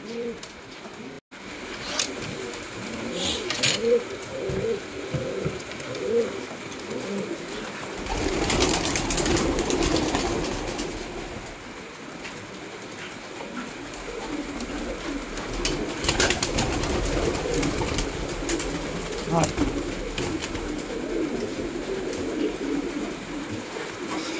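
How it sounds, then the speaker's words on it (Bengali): Pigeons released one by one on a rainy day coo and flutter over steady rain-like background noise, with scattered wing bursts and soft cooing throughout. "পায়রাগুলো এক এক করে ছাড়ি"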